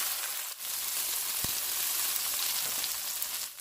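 A sauce-dipped tortilla for vegan enchiladas fries in hot oil, a steady close crackling sizzle with a brief knock partway through and no talking.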